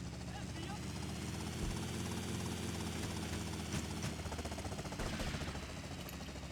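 Helicopter rotor and engine drone in a video game speedrun, a steady dense whirring hum held throughout at moderate distance, with a voice talking over it.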